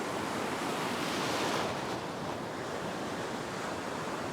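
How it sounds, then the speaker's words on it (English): Ocean surf breaks and rushes steadily on a beach at night during fishing, a loud continuous roar with wind buffeting the microphone and no talking. "I'll just wait till this wave goes past."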